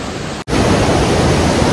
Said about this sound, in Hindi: आपको दिखाने वाला हूँ कोसी बैराज का ये उफनता हुआ पानी